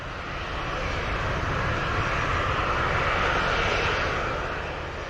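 A fixed-wing airplane at Montego Bay airport in Jamaica, near runway 25, makes a steady broad engine roar that swells slightly and stays loud and continuous for several seconds, with no voices.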